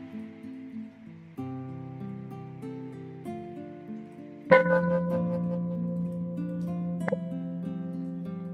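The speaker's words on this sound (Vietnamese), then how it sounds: "Chúng ta nghe một tiếng chuông." A single bell is struck once during a Buddhist dharma talk, ringing out loudly with a long sustained resonance, following a stretch of soft, low tonal humming.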